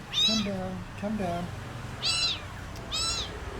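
Two cats meow in a few clear, drawn-out cries, close by and loud, with a person speaking to them between the calls.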